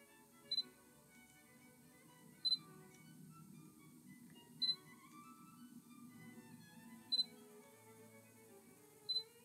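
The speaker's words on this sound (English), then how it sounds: "when you use it indoor, you may hear a little bit of autofocus noise." A Viltrox AF 28mm f/4.5 pancake lens autofocusing indoors: five short, faint mechanical chirps spaced about two seconds apart over a quiet room hum.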